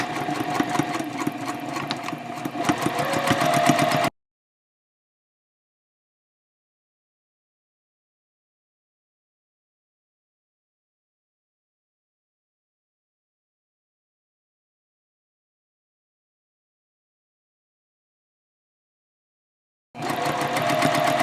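A sewing machine stitches the seam of a fabric eco-friendly shopping bag at a 2.5 stitch length with a quarter-inch foot, a quick mechanical chatter heard briefly at the start and again at the very end around a long silence.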